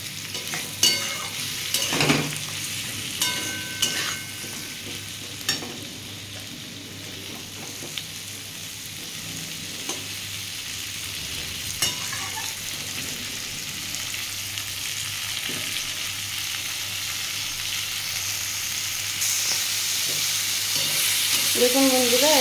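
Ripe pointed gourd (potol) frying in a pan, a continuous close sizzle with occasional spatula scrapes and knocks early on, the hiss slowly growing louder.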